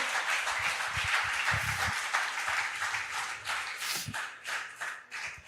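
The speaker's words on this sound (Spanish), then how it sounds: "Denle un aplauso al Rey" Congregation applauding in a church service, a broad wash of many clapping hands held steady for several seconds, with faint low thumps underneath.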